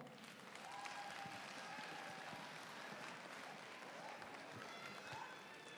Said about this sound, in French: On les applaudit encore une fois.